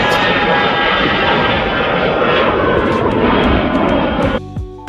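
An EasyJet Airbus A319 jet at London Luton Airport, a loud continuous engine roar held steady for several seconds, then cut off abruptly as the sound drops to a quieter background hum.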